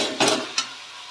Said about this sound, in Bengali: চালটা সেদ্ধ এখন ভাজা হচ্ছে